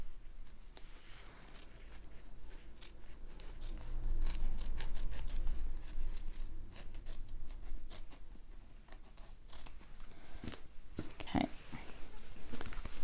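Scissors trim foam from a handbag's seam allowance, making a string of small, close snips and crisp rustling cuts in an irregular rhythm, with soft fabric handling between them.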